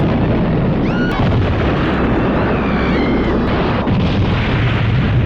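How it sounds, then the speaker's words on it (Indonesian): Loud, heavy booms roll and rumble continuously like cannon fire, with whistling tones and sharp cracks layered over the dense low roar. "dentuman suara meriam yang menggelegar"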